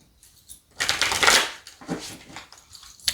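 A deck of White Owl Mystic Arcana tarot cards being shuffled close up. A soft riffling burst is followed by lighter card slides and taps, and no one speaks.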